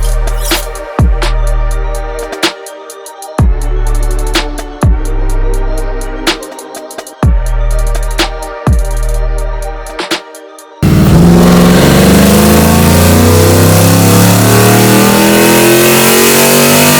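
On a dyno, the engine of a full bolt-on Ford F-150 revs in several sharp bursts and falls back between them. It then holds a long, loud pull that climbs steadily, close up, and no one talks.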